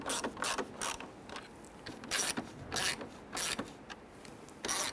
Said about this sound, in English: So we're installing 4 screws across the top.